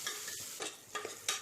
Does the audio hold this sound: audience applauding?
no